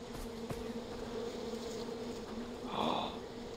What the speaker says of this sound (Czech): Oh, to je vosí úl!